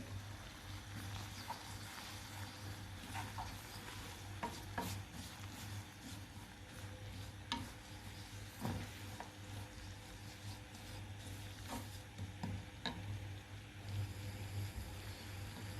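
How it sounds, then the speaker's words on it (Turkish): A thickening mixture of pekmez being stirred in a pan for küncü mot, with soft intermittent scraping and stirring strokes over a steady low hum, fairly faint and with no talking. "koyulaşıncaya kadar ara ara karıştırıyoruz."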